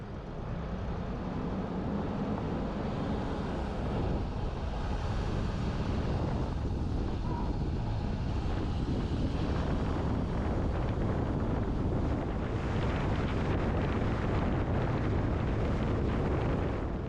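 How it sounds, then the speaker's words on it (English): Wind on an off-road mountain trail at Hualapai Mountain Park near Kingman, Arizona, roaring steadily and buffeting the microphone loudly and continuously, with no clear speech. "It's kind of breezy."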